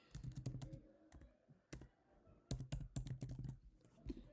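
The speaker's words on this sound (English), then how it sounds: "I'm just going to type in Clubhouse" Typing on a computer keyboard while entering text in Cricut Design Space, with close, crisp key clicks arriving in quick bursts and short pauses between them, and nobody talking.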